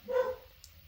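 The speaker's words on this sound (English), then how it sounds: "Don't know what he's barking at" An indoor dog gives one short, fairly quiet bark with nothing else around it.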